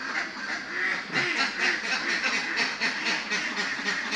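Farm ducks quack in a busy chorus on a Thai duck farm in the morning, many overlapping calls close by and steady throughout.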